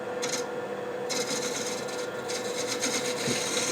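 A sharp hand scraper with a burred edge works across hard cherry burl wood, giving a close, steady raspy rubbing with short bursts of stronger scraping strokes throughout.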